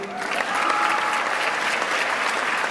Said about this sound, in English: can I get a hand of applause, please?